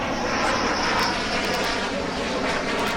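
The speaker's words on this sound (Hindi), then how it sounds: "5 विमान पहुंचे और ये हम आपको दिखा रहे हैं सिलसिलेवार तरीके से कैसे विमान आते गए" Rafale fighter jets arriving at an Indian air base, a loud sustained engine roar close by, broadband and steady with a slight swell, no voices.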